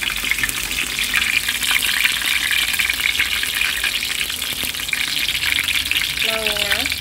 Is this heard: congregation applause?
no